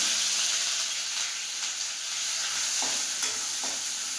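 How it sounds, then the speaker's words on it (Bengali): Black cumin seeds sizzle in hot oil left from frying fish, a steady broadband frying hiss with a few faint stirring clicks, close and continuous with no talk. "মাছ ভাজার তেলে আমি এখন তরকারিটা করে নেব, তাই এখন ফোড়নে দিচ্ছি কালো জিরা"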